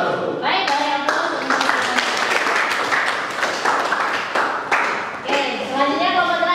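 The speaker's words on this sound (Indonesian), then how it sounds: "Baik, boleh aplaus." A classroom group bursts into applause, many hands clapping together in a dense, steady patter that fills the room for several seconds, with children's voices chattering underneath.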